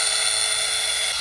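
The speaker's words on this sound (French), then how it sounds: "Tu peux retirer la perceuse." A power drill bores into a living tree trunk during tree treatment in New Zealand, a steady high-pitched whine running continuously and loud throughout, with no pauses.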